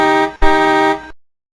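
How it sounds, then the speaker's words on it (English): A car horn honks twice, a short blast and then a longer sustained one, loud, close and harmonic, followed by silence. "Hear that honking sound?"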